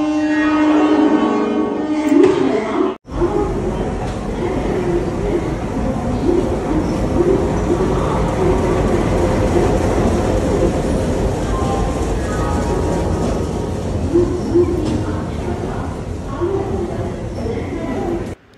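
Train pulling into an Indian railway station platform, a long steady rumble with rolling wheel and carriage noise lasting throughout, loud and close, with faint bird coos and speech in the background.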